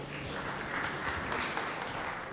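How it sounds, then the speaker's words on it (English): Dense applause from a live audience at a startup pitch competition, a steady wash of clapping filling the whole moment without a break. "Ladies and gentlemen, a huge round of applause for SleepCircle."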